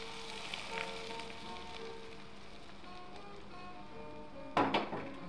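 Hot oil poured over ground spices for raw lemon pickle gives a short, bright sizzle burst near the end, after a quiet stretch of faint clinks and room noise.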